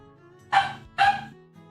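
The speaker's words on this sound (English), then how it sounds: "Our dog." An old, deaf 13-year-old dog gives two sharp, close barks about half a second apart in a quiet indoor setting, followed by a soft low murmur.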